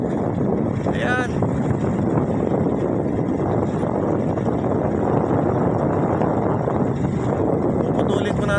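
Strong sea wind roars steadily across the microphone aboard a boat on open water, a dense continuous rush with a voice speaking briefly over it.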